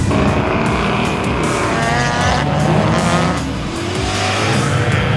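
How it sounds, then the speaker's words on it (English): A 1967 Ford Mustang with a 289 Windsor stroker V8 of about 350 horsepower drives close by, its loud engine roar mixed with tire squeal and skidding throughout. "It's a 1967 Ford Mustang. It's running a 289 stroker."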